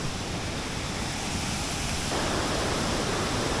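Aling-Aling waterfall in Bali, a continuous broadband roar of falling water, steady and fairly loud, swelling slightly partway through with no voices.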